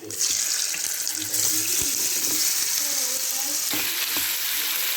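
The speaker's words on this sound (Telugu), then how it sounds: "ఆయిల్ కాగింది కదా ఇప్పుడు ఈ చికెన్ మొత్తం ఇందులో వేసేస్తున్నాం" Chicken pieces hit hot oil in a home kitchen, setting off a loud, continuous close hiss and sizzle with occasional stirring clinks, no talk over it.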